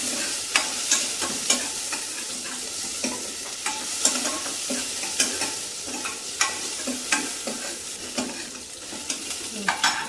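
Onion, curry leaves and dried red chilies fry in a pan with a steady sizzle, punctuated by regular scraping stirs of a spoon against the pan throughout.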